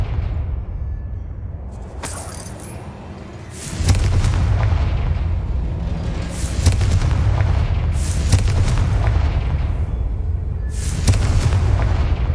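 Booming Confringo blasting-spell explosions in the Hogwarts Legacy video game burst one after another, loud and close, each heavy thump trailing into rumbling debris over a dense continuous roar.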